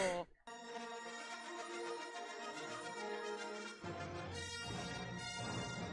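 A phone ringtone plays loudly and steadily for several seconds during a Fortnite match, a rich melodic tone that fills the moment alone, with a short break near the start.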